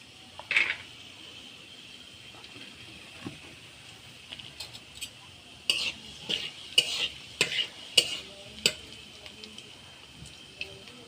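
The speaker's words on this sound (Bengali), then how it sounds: "শুকনো লঙ্কা আর জিরে আমার ভাজি হয়ে গেছে" Dried red chillies and whole cumin seeds fry in oil for a Bengali prawn and taro-leaf dish, a quiet sizzle under a run of clinking spoon stirs and scrapes against the pan that grow busier in the second half.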